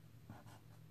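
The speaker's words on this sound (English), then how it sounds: "I'm gonna write it down just so we can see easier what we're gonna" A formula for an RC circuit problem in a physics lesson is written by hand, giving a few brief, faint scratchy strokes close by with no talking.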